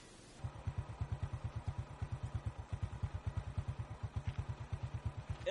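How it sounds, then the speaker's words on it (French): A motorcycle engine left idling unattended out in the bush, a steady rapid chugging pulse with even rhythm, moderately close and heard alone. "ce n'est pas très prudent de laisser la moto en marche et de rentrer dans la brousse"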